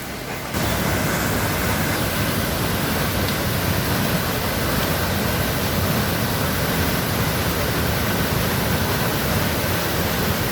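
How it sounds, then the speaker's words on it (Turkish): Düden Waterfall in Antalya thunders with rushing water, a dense, constant roar that holds loud and unbroken from just after the start to the end. "İnanılmaz bir su akışı var burada."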